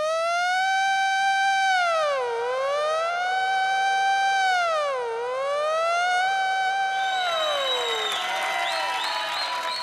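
A voice imitates an ambulance siren with a rising and falling wail, looping three times and loud, then breaking into a brief burst of studio audience applause and cheering near the end, on a Zee TV reality show stage.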